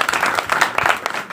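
Audience clapping at a comic stage drama before a crowd of farmers, a short burst of dense, fairly loud applause from many hands with a voice faintly mixed in.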